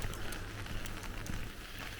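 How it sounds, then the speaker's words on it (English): Steady rain falls on a rainy morning in Dushanbe, Tajikistan, a dense, even hiss with scattered drop patter and a low rumble underneath, with no voices. "It's a rainy day today"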